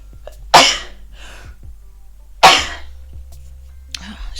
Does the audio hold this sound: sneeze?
yes